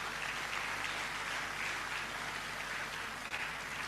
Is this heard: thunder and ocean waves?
no